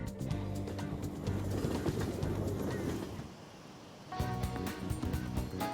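Birds chirp in the Persona 5 Royal video game, layered over steady game music with tonal backing, pausing briefly near the middle before resuming.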